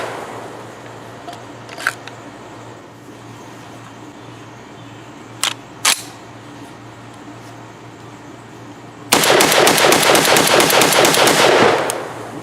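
Armagon G12, an American-made AR15-style shotgun, firing low brass shells in a rapid string of shots near the end, preceded by a few isolated sharp clicks and bangs over quiet outdoor background.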